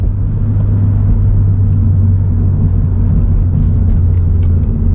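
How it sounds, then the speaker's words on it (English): Car engine downshifting into third gear: a steady, loud low engine drone with road rumble throughout, no clear rev change standing out. "Downshift to third."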